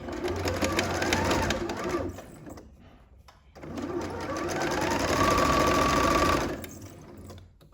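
A sewing machine runs in two close bursts while stitching the neckline of a T-shirt, with a steady mechanical whir broken by a short pause between the runs.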